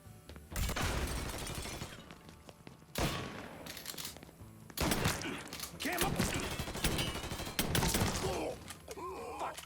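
Sustained gunfire in the video game Mafia III, with loud bursts and rapid volleys starting near second 0.5 and recurring in several heavy clusters, punctuated by impacts and crashes.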